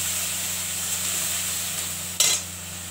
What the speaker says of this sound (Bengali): এখন কম মশলাটা কষা হচ্ছে